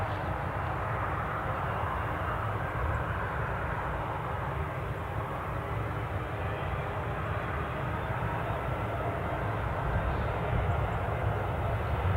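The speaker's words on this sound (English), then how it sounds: "Let's just pick the British Airways returning A320 to Heathrow." British Airways A320 airliner at an airport, heard as a steady, distant jet engine roar that holds an even level throughout with no talking.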